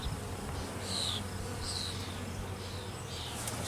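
Honey bees buzzing during a backyard beehive inspection, a constant soft hum with individual bees whining close past now and then, no talking.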